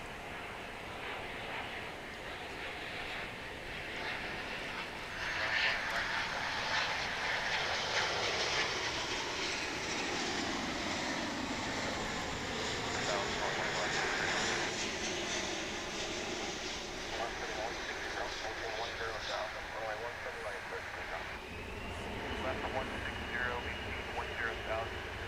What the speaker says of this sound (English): it looks like we're just in time for a 777